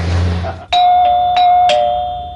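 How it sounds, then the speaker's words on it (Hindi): A doorbell chimes several times in quick succession, bright ringing tones that sustain and overlap, loud and close, after a brief low hum. "घर की घंटी बजी है"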